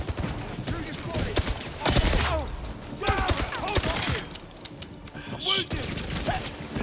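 Rapid gunfire bursts crackle through a 007 First Light firefight, repeated shots mixed with sharp mechanical clatter, while several players talk loudly over the action.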